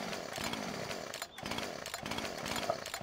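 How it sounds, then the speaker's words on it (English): A chainsaw runs loud and close at a steady high-revving buzz, dipping briefly near the middle before roaring back up for the rest of the stretch. "I should have sold my chainsaw."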